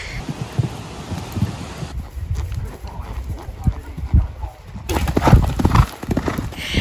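Hooves of an event horse clip-clop steadily across an outdoor eventing course, with rhythmic thuds close by alongside wind and rustling, and a faint snort or whinny.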